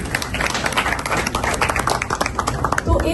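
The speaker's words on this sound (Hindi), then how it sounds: "तालियां बजाते हैं उनके लिए।" An audience claps and applauds at a Pakistan Independence Day celebration in Canada, producing dense, sustained clapping from a crowd with voices mixed in.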